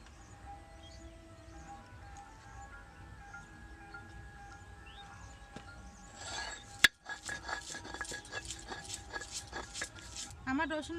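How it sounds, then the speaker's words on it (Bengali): Garlic being ground on a grinding stone, a rapid run of rhythmic scraping and knocking strokes starting partway through after quieter background, close and fairly loud. "বেটে নিচ্ছি রসুন"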